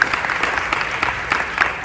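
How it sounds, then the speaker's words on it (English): A festival audience claps in a short burst of dense, steady applause at a cultural event, filling the room evenly for a couple of seconds. "I ask you a big round of applause"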